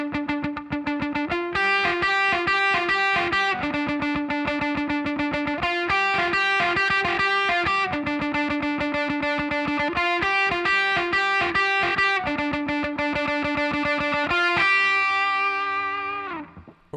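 Distorted electric guitar chugging a steady palm-muted verse riff from a song, tight repeated chords in a driving rhythm, loud and alone, ringing out briefly at the end.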